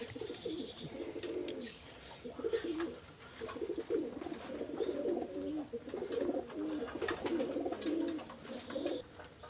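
Imported Biyaj pigeon babies coo in low, throaty rolling calls that repeat almost continuously, fairly close and steady, with faint chirps above and no talking.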